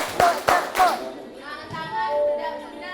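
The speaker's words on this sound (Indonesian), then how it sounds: "Tepuk-tepuk tangan-tangan, pundak-pundak, goyang-goyang, tepuk-tepuk" Three sharp hand claps ring out in a steady rhythm at the start of a children's clapping game, then give way to a voice singing along.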